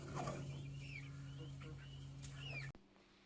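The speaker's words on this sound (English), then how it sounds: "Those are my chickens." Chickens cluck and murmur softly over a steady low hum at night, with a few higher calls, before the sound abruptly drops away near the end.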